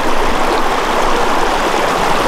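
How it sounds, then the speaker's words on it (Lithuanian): Water runs over stones in a mountain stream in the Tatra Mountains near Zakopane, a steady, close, broadband rushing that fills the whole short stretch without a break and with no voices over it. "bėga vanduo per akmenį"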